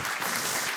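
Audience applause in a conference talk session, a dense steady wash of clapping with no gaps, moderately loud and without speech on top.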